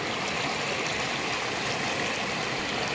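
A river rushes in a broad, steady wash of flowing water, continuous and fairly loud with no breaks.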